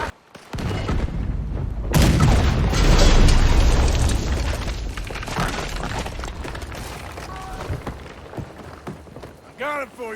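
Gunfire from a shooter up in a tower in Red Dead Redemption 2, heard as loud booming shots and rumbling battle noise that swell and then fade, with people talking through it.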